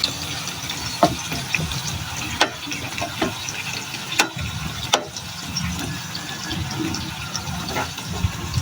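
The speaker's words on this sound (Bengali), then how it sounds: "তেলটা গরম হয়ে গেছে, তো এবার মূলাগুলোকে ভেজে নেব। এবার সুন্দর মতো নেড়ে নিচ্ছি।" Radish slices fry in hot oil with a soft, watery bubbling, broken by sharp scraping clicks at irregular intervals as they are stirred.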